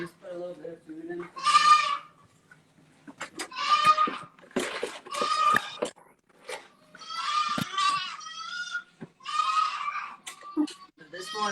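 Goats on a dairy farm bleat loudly and repeatedly at close range, with several drawn-out calls spread across the clip while people talk quietly in the background.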